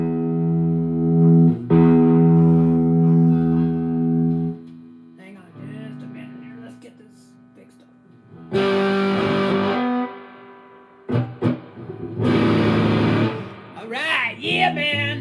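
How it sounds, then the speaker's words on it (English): An electric guitar through a heavy distortion pedal rings out in sustained, fuzzy chords and bursts, alternating with quieter gaps and short picked notes, loud and close. "So I needed a really like a heavy distortion."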